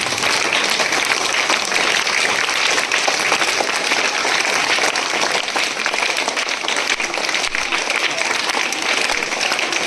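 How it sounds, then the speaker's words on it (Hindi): Dense, energetic clapping from a crowd at a school anniversary celebration for a teacher, loud and continuous for about ten seconds, with voices mixed faintly underneath. "एक बार जोरदार ताली हो जाते हैं।"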